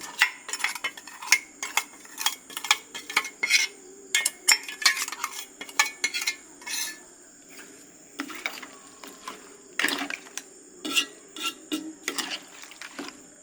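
A spoon works through a mix of roasted coconut with chili, coriander, turmeric and masala powders for crab curry, making close, irregular scraping and clinking strokes against the vessel, with quieter pauses between bursts.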